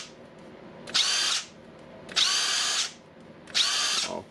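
A Makita nut gun, freshly torn down and cleaned after fire damage, whirs in three short bursts of about half a second each with brief pauses between, loud and close with no talking.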